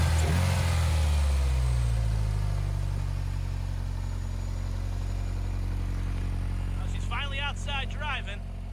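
A Ferrari 328 GTS drives outside in a parking lot, its engine giving a steady low drone that is strongest at the start, with a voice talking briefly near the end.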